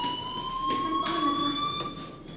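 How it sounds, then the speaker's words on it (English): A school fire alarm in the video game Life Is Strange sounds as a continuous electronic tone with steady pulsing, loud and unbroken, running for a couple of seconds before fading slightly. "Hey, do you hear that fire alarm?"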